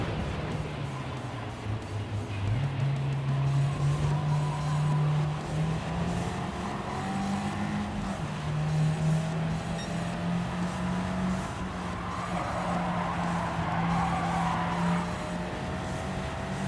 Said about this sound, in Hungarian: Kicsit zizeg az autó hangja.